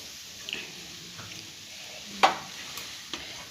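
Bonda filling for kappa (cassava) bonda being stirred in a pan, with soft scraping strokes and a light sizzle, including a sharper clatter midway, alone without talk.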